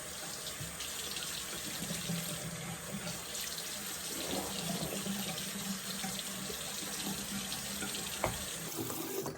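Water runs steadily from a tap while hair is wetted beneath it, a continuous, even hiss and splash with no voices.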